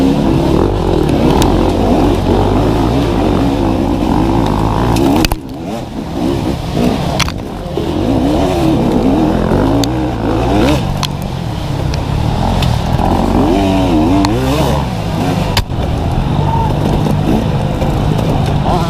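Small-bore off-road dirt bikes at a GNCC pro race roar loudly and continuously nearby, their engines revving and buzzing as riders pass through wooded trail traffic.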